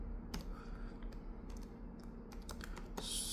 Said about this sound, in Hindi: मेरी टाइपिंग नहीं सही हो रही